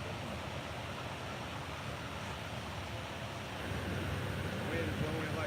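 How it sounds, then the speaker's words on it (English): Wind blows hard and steadily across an outdoor fishing spot, a constant broadband rushing roar that grows slightly louder toward the end, with no clear voices. "Wind is blowing it like crazy and it ain't moving."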